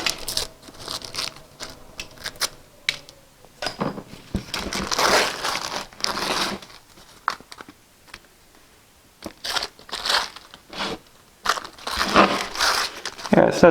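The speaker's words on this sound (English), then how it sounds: "The paper comes off easy enough." Parchment paper crinkles and tears as it is peeled off a homemade grain and seed chicken flock block, with bursts of crumpling rustle between pauses while people talk nearby.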